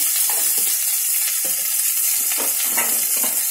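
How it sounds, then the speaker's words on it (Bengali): Chopped tomato and salt go into a frying pan for alur dum, bringing a bright steady sizzle broken by soft stirring and scraping strokes, close and without talking. "এবার আমি এই টমেটো কুচিটা দিয়ে দেবো। নুন দেবো পরিমাণ মতো,"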